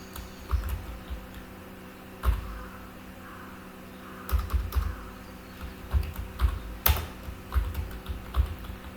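Keys clack on a computer keyboard while text goes into a web page editor, irregular bursts of quick taps with short pauses, close and fairly quiet, no talk.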